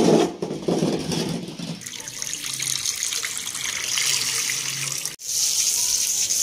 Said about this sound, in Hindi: ये केजीस के आगे हम पानी का छिड़काव भी कर रहे हैं